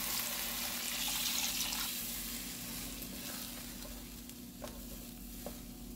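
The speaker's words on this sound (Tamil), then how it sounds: "இந்த ஸ்டேஜில் வந்து ஒரு 2 கப்பு வாட்டர் விடுறேன்." Steady loud sizzling as about two cups of water hit a hot pan of cooked-down masala, a continuous crackling hiss that gradually settles, with a couple of faint clinks near the end.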